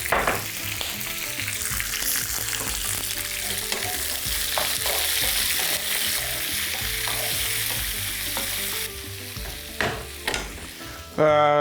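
Salted beef fries in a pan with a loud, dense sizzle, stirred with scattered scraping taps; near the end the hiss drops briefly, then a few sharper knocks and a rising tonal squeal follow.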